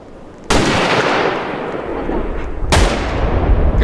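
Two loud, close gunshots in a storm chasing video game, each a sharp crack with a long rumbling tail, the second following about two seconds after the first.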